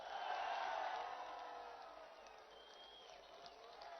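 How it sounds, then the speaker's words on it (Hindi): Rally crowd at Zaman Park applauding with raised hands, a dense wash of clapping and cheering that swells loud at the start and then eases to a steady roar with scattered whoops. "सब हाथ उठाकर तालियों की गूंज पे बताइए"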